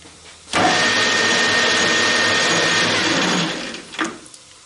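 A metal lathe cuts with a new small blade, giving one loud, steady broadband grinding whir that runs unbroken for about three seconds. It then tapers off into a short fading rattle.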